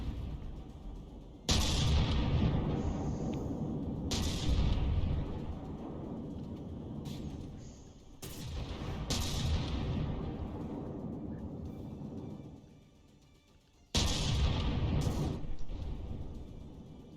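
Cram shells fired by a tank in From The Depths land as heavy booming blasts, four big impacts spaced a few seconds apart, each followed by a long rumbling decay, fairly loud with no talking.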